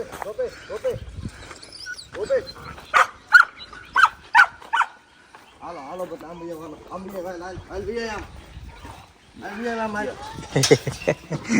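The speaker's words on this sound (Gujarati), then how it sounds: "ડોગી આવ્યા છો." A dog at a farmhouse gives a short run of sharp, fairly close barks mixed in among people talking nearby, with spoken voices filling most of the stretch.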